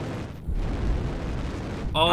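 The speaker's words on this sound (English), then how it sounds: "Oh, that's going to be a nasty airstrike." A heavy airstrike explosion in a competitive video game match, a loud rumbling blast and boom that swells and sustains over a couple of seconds, with game noise layered on top.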